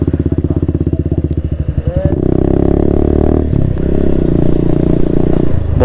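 Motorcycle ride on a TVS Apache RR 310 with a Suzuki Gixxer alongside: a steady, loud engine drone with pulsing exhaust that thickens and grows louder partway through as the bike accelerates.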